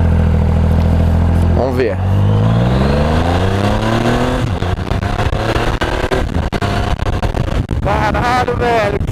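A Triumph Rocket 3 motorcycle engine revs hard and accelerates, its loud, rising drone climbing through gears close by, with someone speaking excitedly over it.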